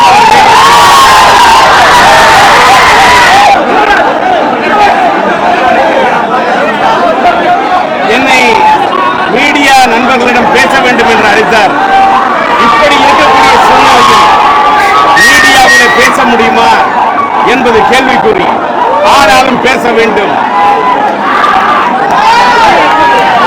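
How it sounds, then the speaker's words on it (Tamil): Fans of STR pack the Kamala cinema theatre, cheering, whistling and shouting loudly and continuously for over twenty seconds, with someone speaking over the din at times. "இப்படிப்பட்ட ஆரவாரம் இந்த ஆரவாரத்தை இந்த கமலா திரையரங்கத்திலே"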